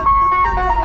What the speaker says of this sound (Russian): Попробуем с такой, знаете, музыкальное мороженое.